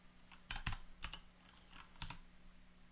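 A computer keyboard clicks faintly as a few short bursts of keystrokes are typed into a Linux terminal, with brief pauses between them over a low background hum.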